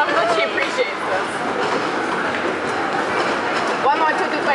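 A train ride rumbles along as a steady, dense clatter of wheels and carriage noise, with people talking and calling out over it.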